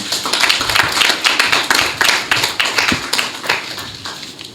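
Audience clapping at an entrepreneurship and innovation hub funding event in Ghana, a close, lively patter of hands with distinct individual claps in uneven rhythm, sustained across the whole stretch.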